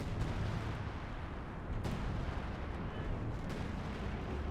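Stuka dive bomber explosions in a Company of Heroes 2 4v4 battle on the Port of Hamburg map, a dense continuous rumble of blasts and gunfire with sharp bursts standing out, loud and sustained throughout.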